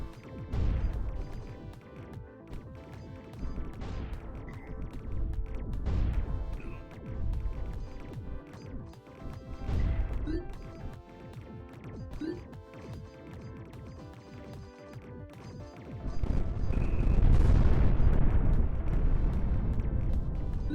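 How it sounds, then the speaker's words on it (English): Repeated booming crashes and blasts from a mech video game, heavy low rumbles rising and fading, building to a loud sustained roar near the end. "Normal amount of explosions"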